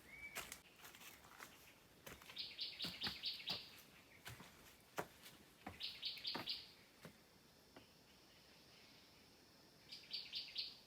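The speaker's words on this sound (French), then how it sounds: "Il y a plein de petits oiseaux à cet endroit-là." Small birds chirp in the forest of Cat Ba park, with short, high twittering bursts coming and going at a distance, interspersed with quiet footsteps on a trail.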